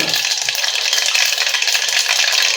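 Mustard seeds and hing sizzling in hot oil, a steady, loud, bright crackle with tiny popping sounds running throughout, close by and without any voice.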